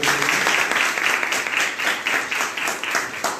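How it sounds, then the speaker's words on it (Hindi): A crowd at a branch inauguration applauds steadily and enthusiastically, dense clapping filling the room throughout without a break. "एक बार जोरदार ताली बजाइए"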